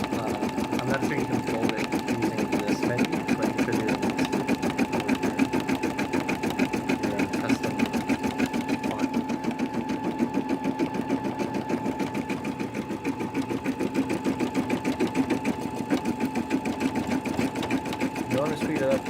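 A computerized embroidery machine stitches steadily for the whole stretch, a fast, even mechanical chatter with a constant hum, loud and close throughout.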